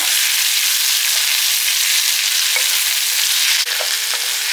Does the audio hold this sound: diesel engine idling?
no